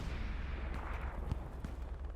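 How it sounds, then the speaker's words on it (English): A Panzer IV tank is blown up in a tank combat video game, heard as dense, roaring battle noise with heavy booming impacts and sharp cracks over a constant rumble. "Panzer 4 gets blown up."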